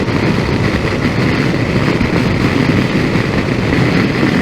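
A Harley-Davidson Pan America motorcycle's engine drones steadily while riding, a loud, dense rumble mixed with wind roar and no breaks.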